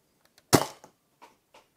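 A Nerf Mega Tri Break blaster fires a mega dart with one loud, sharp burst, followed by a few faint clicks and soft rattles as the mechanism settles.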